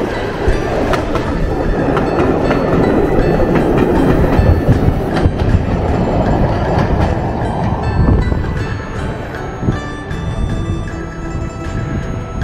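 A train passes along a railway line near a hotel in Loughborough, a loud continuous rumble with rhythmic wheel clatter over the rails, close and steady throughout without talking.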